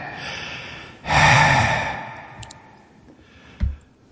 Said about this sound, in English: you hear the breathing sound if you continue playing it